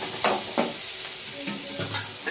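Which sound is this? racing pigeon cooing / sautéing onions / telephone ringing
sautéing onions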